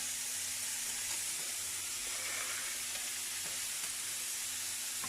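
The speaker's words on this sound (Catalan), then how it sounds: "he posat a escalfar una paella, en la qual fregirem el foie" Steady, close sizzling of foie gras frying in a hot pan without oil, a continuous bright hiss with occasional faint pops, no voices.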